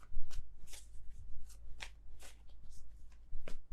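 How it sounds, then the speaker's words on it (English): Cards being shuffled again and again, crisp riffling bursts that repeat at an uneven pace, close and clear with no one talking. "I feel like these are all sloppy shuffles"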